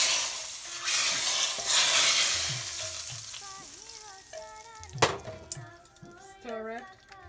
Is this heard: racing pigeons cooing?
no